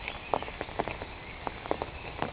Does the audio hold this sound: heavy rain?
yes